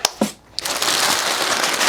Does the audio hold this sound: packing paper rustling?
yes